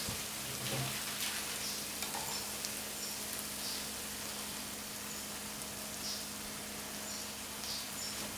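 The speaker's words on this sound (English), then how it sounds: "So stir in your sugar" Sugar is stirred into a cauliflower and potato stir fry as it sizzles steadily in the pan, with a constant close frying hiss and a few faint scrapes, and no voices.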